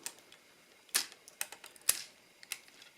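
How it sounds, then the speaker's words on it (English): A Transformers G1 Optimus Prime toy, a Wal-Mart reissue, gives off crisp ratchet clicks from its leg joints: two louder snaps about a second apart among fainter ticks, close and quiet. "They're on these kind of wedged ratchets here."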